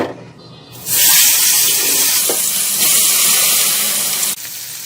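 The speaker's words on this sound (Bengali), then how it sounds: "আমার মাছগুলো ভাজা হয়ে গেছে, এখন আমি এগুলো নামিয়ে নেব।" Fish frying in oil in a pan while cooking a fish curry with eggplant, a loud steady sizzle that starts after a quiet second and runs on, dropping off near the end.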